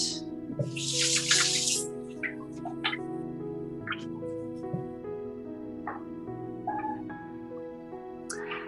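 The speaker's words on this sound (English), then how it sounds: "I'm going to wash my hands, if you don't mind" Running tap water splashes briefly as hands are washed in a kitchen, followed by drips and wet squishes while a voice talks over it.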